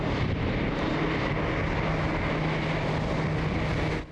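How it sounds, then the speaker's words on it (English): An Air Tractor AT-802 Fire Boss firefighting plane flies over a burn scar near Hagg Lake in Washington County, Oregon, its engine making a loud, steady roar throughout with no voices. "this air tractor AT-802 Fire Boss showed firefighters from the Oregon Department of Forestry what it can do"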